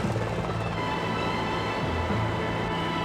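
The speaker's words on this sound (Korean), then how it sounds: "이건 또 무슨 헬리콥터일까?" A helicopter at an air force base rumbles steadily with a low rotor thrum under a broad, constant engine whine, loud and unbroken throughout.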